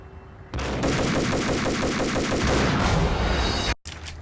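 Sustained burst of rapid shotgun gunfire from the Max Payne video game, loud and dense for about three seconds, cutting off abruptly, then a brief quieter tail.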